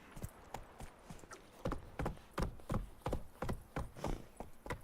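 Horse hooves clip-clopping in The Witcher 3, a steady trotting rhythm of sharp, distinct hoof strikes continuing throughout, moderately close and alone without talk.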